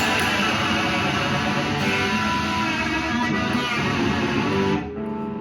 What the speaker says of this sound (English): basically you kind of hit the high strings and just jam on the tremolo